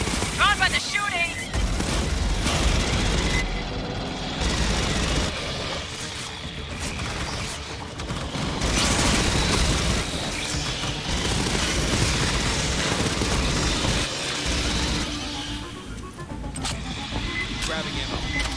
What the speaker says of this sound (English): Drawn by the shooting!